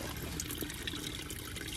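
A hose runs water into a catch basin at a drain blockage, giving a steady, moderately faint splashing trickle without pause and with no voices.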